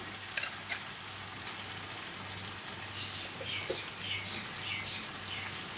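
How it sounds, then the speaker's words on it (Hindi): Chicken pieces frying in a pot for dum-style biryani give a steady, close sizzle, with a few sharp clinks near the start and faint chirps in the background. No one speaks. "चिकन को अच्छी तरह से भुनाई करके"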